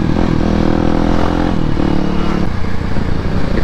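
A motorcycle fitted with a racing exhaust runs close by, its engine droning loud and steady with slight rises and dips in pitch and no voices.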